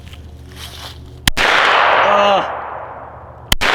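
Two sharp gunshots from a .300 BLK or 10mm firearm with an extended magazine, each a loud, close crack, spaced about two seconds apart, with a long echoing decay after the first and a brief exclaimed word.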